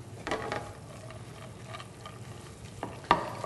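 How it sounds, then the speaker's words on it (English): Wild rice and dried blueberry stuffing with grated Granny Smith apple and tarragon is stirred in a pan off the heat, with soft scraping and light clicks at a low level and a sharper knock near the end. "I'm going to stir it to combine it."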